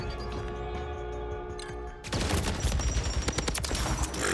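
Pulemyot 762 machine gun from Call of Duty MW3 rattling off a long, sustained burst of rapid fire, loud and close, kicking in abruptly after a quieter stretch of game ambience.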